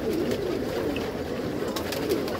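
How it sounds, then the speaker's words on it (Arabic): Pigeons cooing in a loft, soft low murmuring calls repeating under a busy background of rustling and movement, fairly close and steady. "بص هتلاقي في حمام ايه اهو. بص طالعين نازلين اهو"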